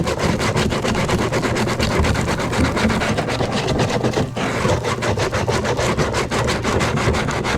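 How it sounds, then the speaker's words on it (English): Sandpaper of 150 grit rubs back and forth along the cut edges of a hatch opening on a Perception Outlaw 11.5 plastic kayak, a loud close scratchy rasp in quick continuous strokes, with no talking. "I got 150 grit sandpaper here."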